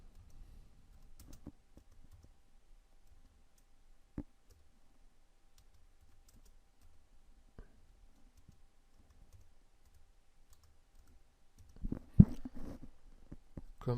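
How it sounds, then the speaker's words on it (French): Typing on a computer keyboard, faint scattered clicks and keystrokes spread across a quiet room, with a denser burst of taps near the end and no voices. "Je tape mon texte."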